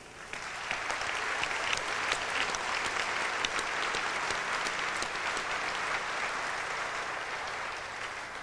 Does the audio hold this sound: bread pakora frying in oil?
no